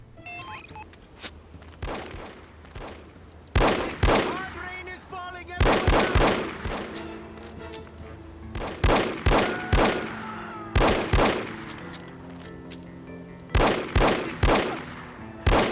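Gunfire from The Operative: No One Lives Forever, repeated bursts of sharp shots in clusters, loud and close, with quieter stretches between volleys and little talk.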